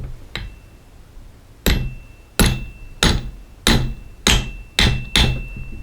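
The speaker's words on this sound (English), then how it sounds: "Then I'll just have to take and drift it in with a hammer." A hammer strikes a drift punch to seat a sight on a Glock pistol, giving seven sharp metallic taps. The first is light and the rest come at a steady, evenly spaced rhythm, close and loud.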